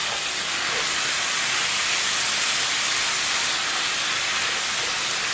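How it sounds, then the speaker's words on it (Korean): Spicy Korean pork (jeyuk bokkeum) sizzles steadily in a hot pan as it is stir-fried with seasoning sauce, giving a loud, continuous hiss with no pauses and no talking. "고기가 완전히 익으면 양념장을 넣고 양념을 잘 섞어가면서 볶아줍니다"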